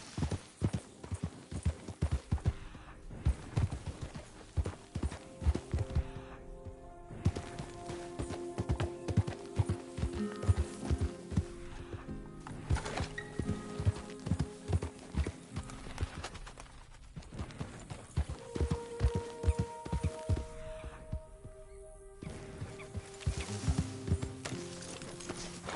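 Galloping horse hooves in Red Dead Redemption 2 beat out a fast, steady rhythm up close for the whole stretch, with a soft musical bed behind and little talking.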